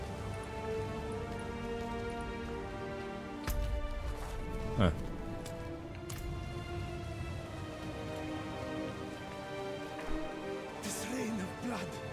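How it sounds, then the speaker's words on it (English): Rain of blood falling in Diablo 4, heard as a steady, fairly faint hiss of rainfall with occasional spatters, while a voice briefly murmurs over the top. "This rain of blood. The sign we've waited for."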